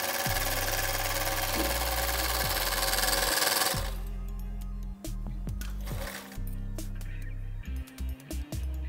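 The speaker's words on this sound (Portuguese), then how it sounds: "Eu estou ajudando para que a máquina consiga puxar o tecido." An overlock machine stitches through thick fabric with a loud, continuous rapid whirring run, then a series of shorter bursts with brief pauses as the fabric is fed.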